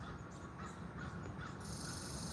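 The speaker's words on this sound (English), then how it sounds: "And now the crow is yelling at the robin," A crow cawing at a robin outdoors: a few harsh caws over a dense, hissy background of other birdsong and ambient noise, moderately distant.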